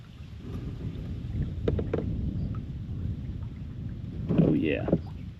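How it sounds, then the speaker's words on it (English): Steady wind rushes and buffets against the microphone while a kayak moves over open water, with a few soft paddle splashes and a brief voice near the end. "The wind is carrying me in, baby."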